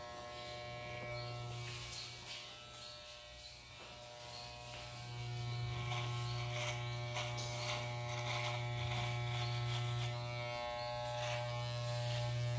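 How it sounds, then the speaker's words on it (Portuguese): An electric hair clipper buzzes steadily while cutting a fade haircut, its close, continuous hum shifting slightly as it passes over the hair, with faint crackling strokes on top. "eu passo a maquininha de cima para baixo e de baixo para cima"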